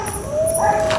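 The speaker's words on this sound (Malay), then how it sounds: "Bunyi lagi si anjing tu." A dog howls in a long, wavering tone in a forest over a steady background hiss, with faint yips mixed in.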